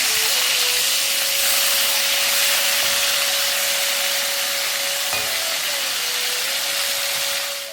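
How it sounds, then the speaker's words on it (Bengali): Fish frying in a pan gives a loud, continuous sizzling hiss of hot oil, steady throughout with a faint tonal hum running underneath. "আর এখানে আমি মাছটা ভাজা করছি"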